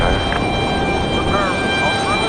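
A Frontier Airlines plane arrives on the runway at Raleigh-Durham International Airport, a loud, continuous engine roar and whine heard up close, with a voice talking over it.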